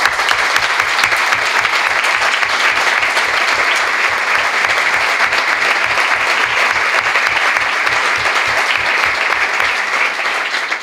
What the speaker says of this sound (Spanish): le pido a todos ustedes un fuerte aplauso